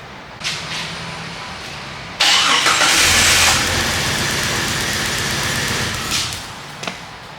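A Jeep Wrangler's 4.0L engine cranks and catches with a loud, close roar that runs for about four seconds, then sags and dies into a brief sputter and quiet.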